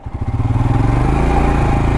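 Royal Enfield Scram 411 scrambler motorcycle ridden off road, its single-cylinder engine thumping in a steady close rhythm that builds slightly as it pulls away, loud and alone without talk.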